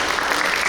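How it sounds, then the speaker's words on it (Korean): Brief burst of audience clapping at an author's book concert lecture, a thick even wash of many hands, fairly loud and steady for under a second. "제가 마음을 담아서 박수 주세요."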